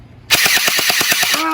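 A cheap toy gel blaster fires a rapid burst of about a dozen sharp, evenly spaced shots, loud and close, ending in a brief whirring tone as the motor winds down.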